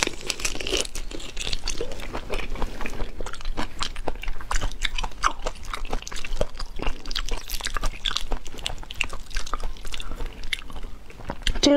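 Raw shrimp being chewed close to the mic in an eating session, with steady wet crunching and crinkly biting sounds throughout and no talking.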